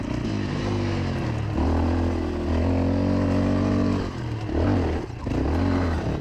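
A Beta RR 125 LC enduro motorcycle in second gear with the clutch slipping produces a close, buzzing two-stroke drone that swells and dips as the revs rise and fall, holding steady stretches between brief lulls.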